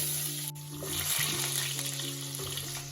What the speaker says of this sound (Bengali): ওই তেলের মধ্যে আমি আলুগুলিও ভেজে নেব।